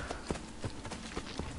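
Horse hooves clip-clop on the ground in the video game Assassin's Creed Brotherhood, a steady run of soft, moderately close hoofbeats over a constant game background.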